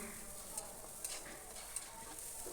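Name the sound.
onions frying and being stirred in a pan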